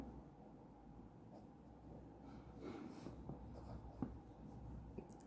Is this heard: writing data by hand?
yes